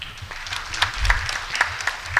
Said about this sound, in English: A round of applause for Quill.